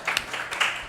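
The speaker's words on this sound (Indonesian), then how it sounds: "Silakan kembali ke tempat, kita beli tepuk tangan ya." Audience applause for a presenting group at a digital transformation seminar, a short burst of scattered hand clapping in a room, moderately near and fairly faint, with no talk over it.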